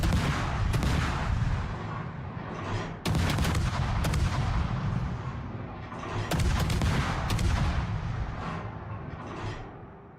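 Rapid gunfire and explosive booms from a Hero Wars match fill the stretch, with sharp shots recurring every few seconds over a dense, loud battle din.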